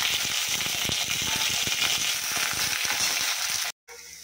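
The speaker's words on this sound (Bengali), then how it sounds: "রসুনটাকে ভালো করে ভেজে নেবো" Whole peeled garlic cloves fry in oil for a bottle-gourd leaf paste, a dense steady sizzle with quick crackling spatters that cuts off abruptly near the end.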